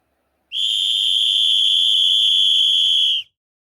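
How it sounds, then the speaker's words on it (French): A single high, steady whistle blast sounds loud and close, holding one shrill pitch for under three seconds before cutting off; no low boat horn is evident. "Un sifflet a un son aigu, tandis qu'un bateau produit un son grave."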